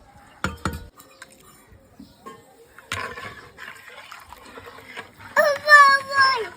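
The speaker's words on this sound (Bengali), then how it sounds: "এটা কিন্তু অনবরত নাড়তে হবে যেহেতু কর্নফ্লাওয়ার আছে" Cornflour mithai mixture with cardamom being stirred in a pan: scattered scraping and clinking of a spatula against metal, with a thick, wet sloshing near the end, close by, while someone talks.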